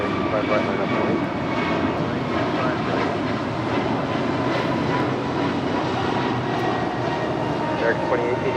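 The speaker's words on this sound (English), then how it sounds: "United Airlines Flight 2226 coming in from Newark at this 777-200" A United Airlines Boeing 777-200 jet arriving at Los Angeles International from Newark, its engines a steady broadband roar throughout, loud and continuous, with radio chatter and talk faintly under it.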